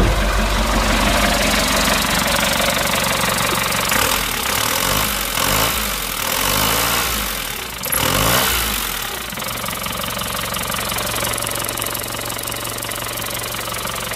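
An MK5 Ford Transit engine idling smoothly without misfire, a steady close mechanical rumble with a faint knock-like patter, briefly changing pitch midway before settling back into an even idle, no voices.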